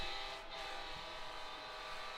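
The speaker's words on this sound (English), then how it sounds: "the annoying train horn goes" Train horn at a high school football game, a faint steady tone held for about two seconds at a distance, blending with crowd background.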